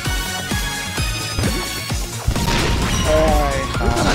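Bomb explosions in the video game Super Bomberman R, several loud booming crashes in a rapid burst with music and game effects, voices talking over the action.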